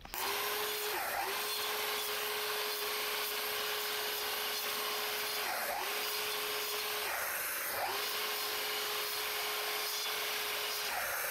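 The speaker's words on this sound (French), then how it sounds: "venir ici couper directement à la scie à ongler" Miter saw cutting the wooden handle of a wood chisel held upright, a loud continuous whine and rush from the blade with a few brief dips as the cuts bite, no voices.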